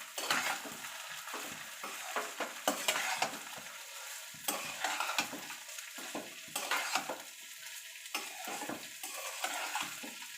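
Pulao with fried nuts and green chillies is stirred in a pan, giving continuous scraping and clattering of a spoon over a soft sizzle, with frequent irregular strokes, close and fairly quiet, and no voices.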